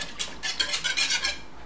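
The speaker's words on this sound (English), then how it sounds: "I want a smooth texture for the yogurt, so that's why I'm going to whisk it before I continue to cook it" A whisk beats yogurt in a bowl for a stew, giving about eight quick, rhythmic scraping strokes that are light and close, with no voices over them.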